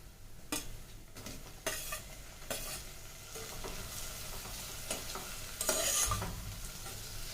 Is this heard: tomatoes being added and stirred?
yes